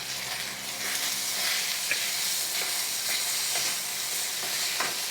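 Pork bites sizzle steadily in a hot pan, a constant crackling hiss with occasional sharper pops, close up and without voices.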